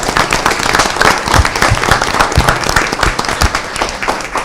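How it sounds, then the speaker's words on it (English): City council meeting attendees applaud local authors in a dense, loud burst of clapping that carries on steadily for a few seconds without speech. "Can we have a round of applause for all of our authors out there?"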